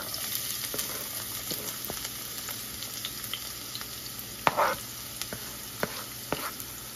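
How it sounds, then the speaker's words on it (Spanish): Chopped onion fries in oil in a pan with a soft, steady sizzle. Occasional sharp clicks and a brief scrape from stirring sound close by, and there is no talk. "Que lo que voy a hacer es echar la cebolla"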